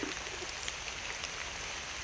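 Rain falls in a forest, a steady broadband hiss of drops on leaves and ground with faint scattered patters, continuous and even throughout with no voices.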